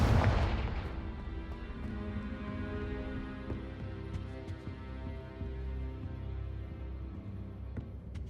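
A Confringo blasting spell explodes in Hogwarts Legacy, a sharp loud burst at the start that decays into a rumbling tail over sustained game ambience with faint scattered clicks.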